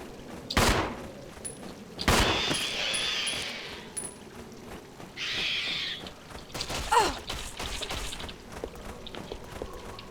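Sharp, loud gunshots ring out in the survival horror game Resident Evil 0, a few spaced blasts mixed with footsteps, thuds and echoing game effects in a tense indoor setting.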